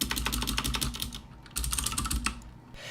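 Rapid keystrokes on a computer keyboard as a command is entered, crisp close clicks in quick bursts with a short pause midway, no voice.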